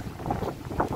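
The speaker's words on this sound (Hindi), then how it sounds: "और इतनी तेज हवा है" Strong night wind blows along the sea coast of Trinidad, with forest nearby, in a continuous loud roaring buffet across the microphone, gusting harder toward the end, with no voices.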